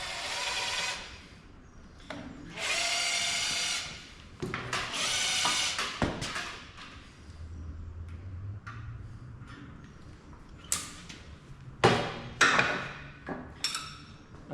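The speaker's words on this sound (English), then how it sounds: "I'll just wrap it around the rattle gun just so I can spin it" A rattle gun spinning a length of bendy MIG wire clamped in a vise to straighten it, with several short whirring bursts followed by scattered clicks and metallic taps.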